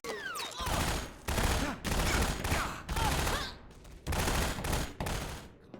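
Gunfire in the Half-Life 2 Substance mod with Metal Gear-themed action, heard as repeated bursts of shots in quick volleys separated by brief pauses, sharp and fairly close.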